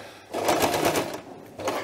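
A sewing machine runs in a short burst of rapid stitching through fabric, stops briefly, then gives a quick second burst; fairly quiet and close, with no voices.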